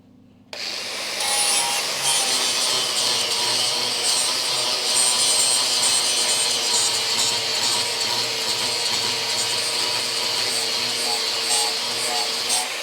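A flap wheel grinds down weld high points on the body of a Crew Cab Charger under restoration, a loud, steady abrasive whir that starts abruptly and runs unbroken to the end.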